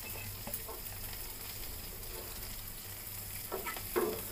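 Carrot, coriander and green chili fry in a pan with mustard seeds for vegetable upma, a quiet steady sizzle with a few soft stirring scrapes near the end.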